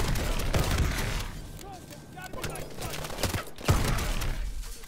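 Shotgun blasts in Call of Duty: Advanced Warfare ring out as sharp, scattered reports amid busy combat noise, with one heavy shot standing out near the end.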